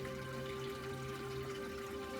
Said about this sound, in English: do some circles like you're running your hands in that running water behind me